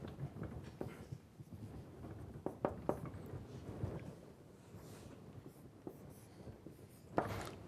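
A lecturer writes on a classroom board, a faint, quiet run of scratchy taps and strokes spread unevenly over several seconds, with one brighter knock near the end.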